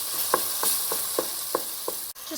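Tomatoes frying in a pan for cauliflower pasta, a steady hiss of sizzling with a series of evenly spaced spoon scrapes as they are stirred.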